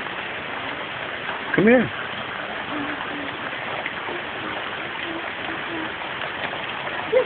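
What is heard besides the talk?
rain falling outside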